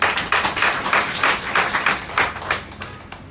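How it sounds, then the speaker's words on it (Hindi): An audience at a business motivational seminar bursts into applause, with distinct individual claps audible in an uneven rhythm before it tapers off toward the end. "आप सबके लिए एक बार तालियां होनी चाहिए"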